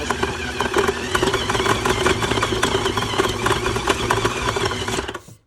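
KitchenAid stand mixer beating cake pop dough, a steady close motor whir with a rhythmic mechanical chatter that runs for several seconds, then cuts off abruptly at the end.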